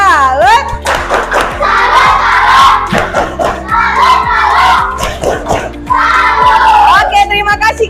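Elementary schoolchildren in a fifth-grade classroom clap out a rhythmic 'tepuk salut' chant, with steady evenly spaced hand claps under loud, sing-song group voices that carry through the whole stretch.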